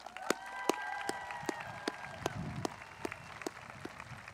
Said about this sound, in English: Will you join me on giving them a round of applause?